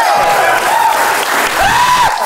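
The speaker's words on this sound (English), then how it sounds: "I'm not used to getting a round of applause after every sentence." Live audience at a gaming podcast's 50th-episode Halloween show breaks into loud, sustained applause with cheering and whistles, filling the room for the full stretch without a pause.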